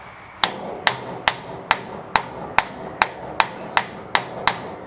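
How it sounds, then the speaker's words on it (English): Eleven sharp metallic hammer blows drive a part through a tank road wheel in a steady, even rhythm, each ringing briefly before the next strike, close to the listener. "now I'm going to pound that through"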